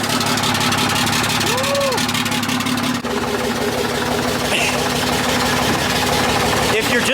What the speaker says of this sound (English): Ultimate cold start, guys.